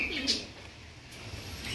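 Caged pigeons, a male HMT and females, give short soft coos close by, with a few brief chirpy notes over a low murmuring background and no speech.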